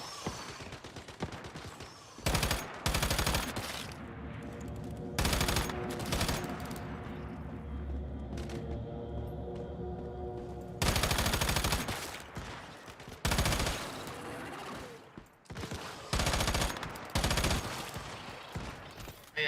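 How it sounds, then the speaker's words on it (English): Gunfire in the video game Once Human: loud, sustained bursts of rapid automatic shots broken by short pauses, dense and close, repeating over about twenty seconds with no talk over it. "This game is so loud when I fire."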